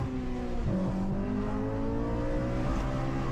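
A Honda K20 inline-4 VTEC engine revs steadily and loudly, its pitch climbing in smooth sweeps with no talk over it.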